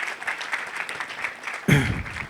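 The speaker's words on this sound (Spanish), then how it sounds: "un fuerte aplauso para nuestros panelistas" Audience applause for the panelists at an international seminar on non-contributory pensions, a steady patter of many hands clapping that swells louder near the end.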